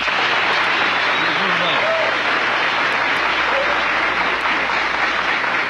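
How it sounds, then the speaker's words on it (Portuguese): Studio audience applauding on a 1989 Brazilian late-night talk show, dense steady clapping sustained throughout at a loud, even level with no talk over it. "Uma salva de palmas aqui, por favor."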